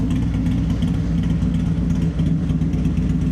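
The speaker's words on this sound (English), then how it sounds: "Listen to that bike, man." Harley-style motorcycle with a 107 Stage II engine and D&D 2-in-1 exhaust, a loud, steady, deep idling rumble up close, unbroken throughout.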